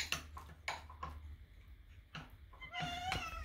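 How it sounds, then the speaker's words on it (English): A kitten meows in a series of short, faint cries with pauses between, ending in a longer, higher meow, heard close with no talk over it. "Oh. Happy kitten."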